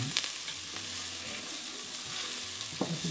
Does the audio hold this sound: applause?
no